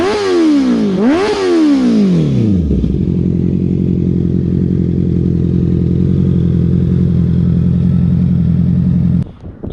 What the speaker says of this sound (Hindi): तीसरी बात जो मैं अपनी बाइक की बहुत पसंद करता हूँ वो है एग्जॉस्ट